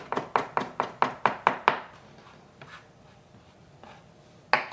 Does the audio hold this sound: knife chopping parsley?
yes